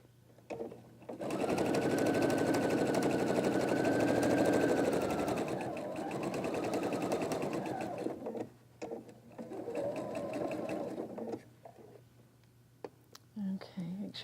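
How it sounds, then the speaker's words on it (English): A sewing machine stitches across a quilt top with a close, whirring hum in bursts, pausing and restarting, while a soft voice murmurs at times. "I'm just going to sew right off the end, like that."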